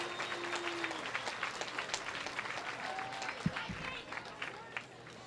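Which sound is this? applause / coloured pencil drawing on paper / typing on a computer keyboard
applause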